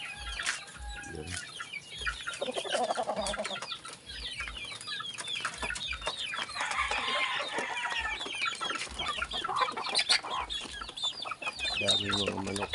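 Chickens clucking in a rural yard, a busy, overlapping chorus of clucks and short calls near and far, continuous throughout with scattered bird chirps in the background.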